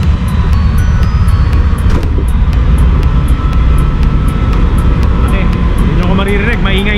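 Dense, steady engine room machinery aboard a cargo ship roars loud and constant, a broad rumbling drone with a regular high ticking pulse running through it.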